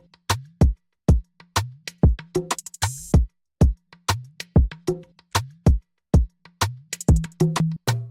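A punchy Afrobeats drum loop with steady kick and snare hits in a repeating groove, crisp hi-hat accents and a brief cymbal crash, loud and alone.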